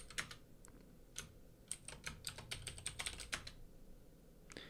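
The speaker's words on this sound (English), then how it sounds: "But I'll type in my root password." Password being typed on a computer keyboard, a quick irregular run of close, crisp key clicks over a few seconds with short pauses between bursts.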